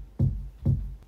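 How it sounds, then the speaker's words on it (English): A deep kick drum sample with boosted bass hits twice, about half a second apart, each a soft, rounded low thump that fades quickly, quiet and alone. "it's a bit just more like low, it's like a deep kick"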